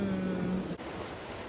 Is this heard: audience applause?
no